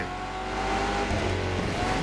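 Aston Martin Vulcan racing in The Crew Motorfest, a steady high engine drone with tire noise under it, fairly quiet and continuous with no talk.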